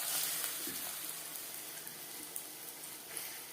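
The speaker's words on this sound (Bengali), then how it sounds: "রিফাইন্ড অয়েল গরম করে নিয়েছি, ভাজবো মিডিয়াম ফ্লেমে।" Drumstick flower pakoras fry in hot refined oil over a medium flame, giving a steady, even sizzle throughout with no voices.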